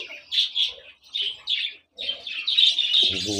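Bird chicks in a breeding box chirp in rapid high bursts, several tweets overlapping close by, with a short pause midway and a low cooing note near the end.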